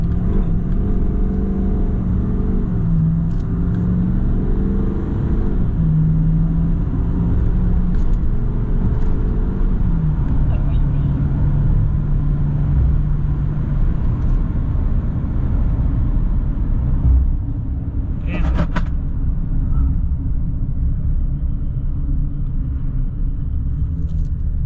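A Duramax L5P diesel pickup with emissions-compliant tuning goes to full throttle, its deep, steady engine rumble and drone building loudly and continuously close by, with a brief rise in pitch partway through and no talking.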